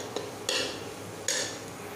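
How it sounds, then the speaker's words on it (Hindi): A spoon scrapes and clinks against a pan while red chili and spinach are stirred, giving two sharp strokes over a soft background hiss, close and without talk. "एक दो मिनट इसे और हिलाएंगे, इस तरीके से चलाते रहेंगे।"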